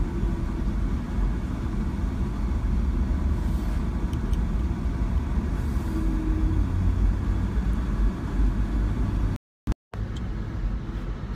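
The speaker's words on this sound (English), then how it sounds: "Just gonna take you for a drive around the streets of Cairns." A car drives through the streets of Cairns, far north Queensland, its steady low engine and road rumble continuous throughout, with a brief cutout near the end.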